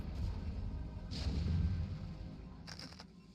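Siege tanks in StarCraft: Brood War shelling Dragoons at a key choke, heavy booming impacts rumbling low and continuous, with two bright crackling bursts of cannon fire cutting through the din.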